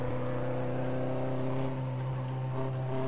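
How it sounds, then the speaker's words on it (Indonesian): A minibus engine in Angkot The Game revs and drones with a steady, tonal hum, rising slightly in pitch, with no voices. "Angkot suaranya kayak mobil sport"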